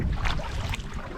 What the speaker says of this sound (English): got a little bit of a headwind as I'm coming up Sucker Gut here